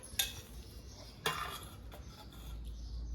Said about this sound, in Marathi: रॅकवरून मी एक प्लेट घ्यायची काढून